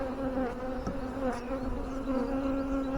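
A dense, steady hum of honeybees swarming over an open hive during an inspection, loud and close, holding one droning pitch without a break for the whole stretch.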